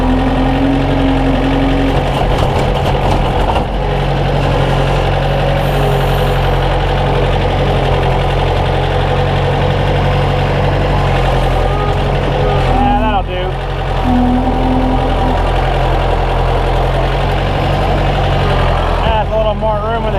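A 110TLB tractor loader backhoe with an HLA3000 blade and a large loader bucket runs steadily while moving snow, its engine a continuous low rumbling drone with slight pitch shifts and a voice breaking in now and then.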